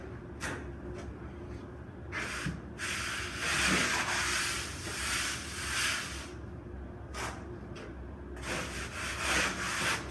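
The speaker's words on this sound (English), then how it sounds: "so you scrape across with your trowel, off the ceiling, and then the wall" A steel trowel scrapes plaster render along a ceiling angle where ceiling meets wall, giving repeated rough rasping strokes close by, with a steady low background hum and no talking.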